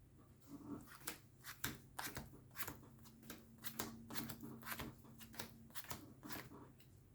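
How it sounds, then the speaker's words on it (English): A deck of trading cards is pile shuffled by hand, a quiet series of sharp, irregular card slaps and flicks repeating close up for several seconds. "now let's go for a pile shuffle, because this hand was very similar to the last"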